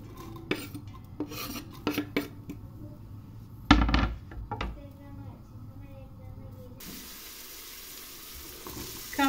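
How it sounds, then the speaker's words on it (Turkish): Chopped onions sautéing in a couple of spoonfuls of olive oil in a pot for a dried black-eyed pea stew, giving a soft, steady sizzle with occasional scraping stirs, fairly quiet and close. "2 yemek kaşığı kadar zeytinyağımızı koyalım tenceremize ve soğanlarımızı biraz"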